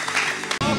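Brief burst of studio audience applause for the children on an Indonesian family talk show, dense and steady before cutting off abruptly near the end.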